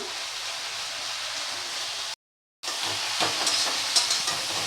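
Ridge gourd (chichinga) fries in a pan with salt and turmeric, giving a continuous bright sizzle that cuts out briefly, then resumes with faint stirring scrapes.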